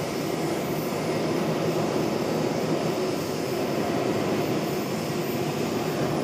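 A Boeing 777-300ER jet airliner arriving from London Heathrow, heard from an airport observation deck as a loud, steady, broadband engine roar that holds without a break, with no talk.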